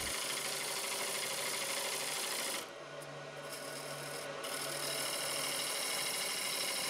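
A natural edge crotch bowl spins on a wood lathe while a gouge cuts the inside, making a continuous rasping scrape over a motor hum that eases briefly midway and then resumes.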